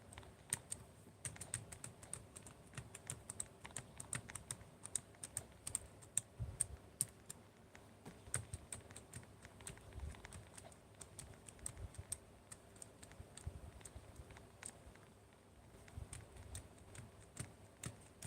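Someone types on a computer keyboard, a quiet, fairly close run of irregular key clicks and taps that continues with brief lulls throughout.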